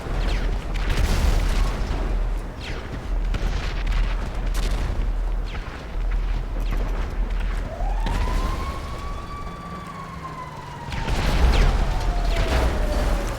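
Explosions and gunfire rattle through a chaotic GTA V Online shootout, with dense booms under a steady roar, a rising-then-falling siren sweeping across the middle, and a louder burst of blasts near the end.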